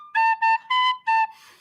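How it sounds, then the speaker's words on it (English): A tin whistle plays four clear sustained notes in a short phrase, each separated by brief gaps, close and bright, followed by a softer breathy trailing tone. "can you play it on the tin whistle?"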